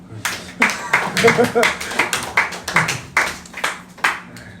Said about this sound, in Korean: 박수에 힘이 없네.